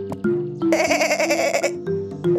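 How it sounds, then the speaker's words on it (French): Goat bleating in a children's story: a hungry little goat gives one long wavering bleat, loud and close, over a quiet musical background, followed by soft lingering tones. "une petite chèvre affamée apparut devant la jeune fille"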